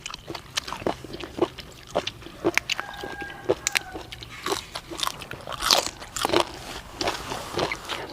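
Loud, close crunching and chewing of raw beef, with steady bites and wet mastication repeating throughout, firm and crisp.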